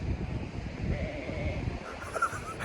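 A person mimics a sheep's bleat, a wavering nasal cry sustained over a dense, steady background of low rumbling noise.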